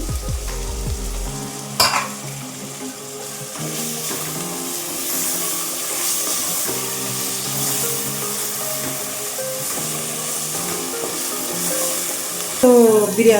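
Tomato pieces and mint sizzle and fry steadily in a pot for a cooker ghee biryani, with stirring scrapes and a few sharper clatters, loud and close throughout, with no talking.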